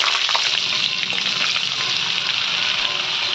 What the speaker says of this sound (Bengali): যে তেলে আমি কোফতা ভেজেছি সেই তেলের মধ্যেই আমি কিছুটা বাটার দিয়ে দিলাম।